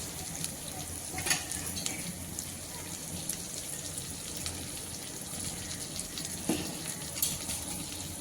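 Spices frying in a pan for steamed hilsa fish, a soft continuous sizzle with occasional stirring clinks, fairly faint and close.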